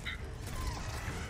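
A checkpoint crank turned in Resident Evil 4 Remake: a short, faint mechanical ratcheting creak under a steady low background rumble.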